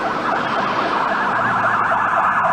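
Ambulance siren from rescue units responding to an emergency call in Fresno, wailing steadily and loudly through the whole stretch, with no talk over it.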